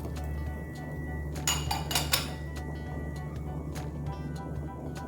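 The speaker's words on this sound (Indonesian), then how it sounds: "Kita masukin brokoli ya ibu-ibu. Masuk kembang kolnya ya." Broccoli and cauliflower florets dropped into a pot of vegetable soup, a short cluster of clinks and splashy knocks against the pot over a steady low background hum, with quieter clatter afterward.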